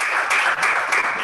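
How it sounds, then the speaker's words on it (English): Brief, close round of applause from the audience at a press conference launching e-payment certifications, brisk clapping in a few swelling pulses. "Please, a big round of applause for you today."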